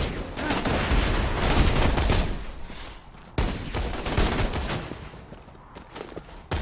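Dense, continuous gunfire and explosive blasts from sniper rifle and grenades in Borderlands 2, a loud sustained barrage with a brief drop in the middle before the firing resumes.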